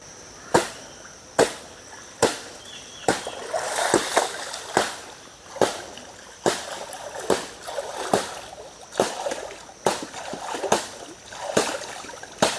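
Wet clothes are being washed by hand in a village pond, slapping and splashing the water in a steady rhythm of sharp strikes about once a second, close by and fairly loud.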